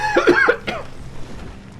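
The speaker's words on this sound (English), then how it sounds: "Excuse me for coughing." A person coughs a few times in quick succession, close and fairly loud, followed by quieter room noise.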